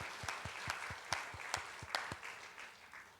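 Church congregation at a Sunday service applauding a young couple in thanks, a modest, fairly quiet patter of clapping with some distinct individual claps, fading toward the end.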